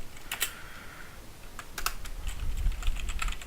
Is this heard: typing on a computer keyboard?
yes